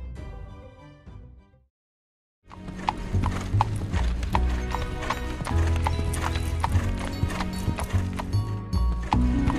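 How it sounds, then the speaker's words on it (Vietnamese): Horse-drawn carriages in an animated cartoon clip-clop steadily, a brisk, even run of hoofbeats that starts after a brief silence and continues alongside other soft background sounds. "Đoàn xe ngựa kia đi đâu thế nhỉ?"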